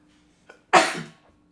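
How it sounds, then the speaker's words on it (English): One big human sneeze bursts out after a short intake of breath, loud and close, fading over about half a second into quiet. "That was a big sneeze."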